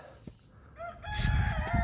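A rooster crows once near a country path among small hens, the call rising clearly over faint rustling and low background noise.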